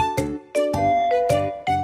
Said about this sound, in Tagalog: may nag-doorbell, may kumakatok